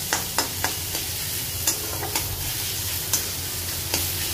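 Onion paste and ginger paste masala frying in a pan, a soft continuous sizzle broken by sharp scraping clicks of a spatula stirring at a steady rhythm, close up with no voices.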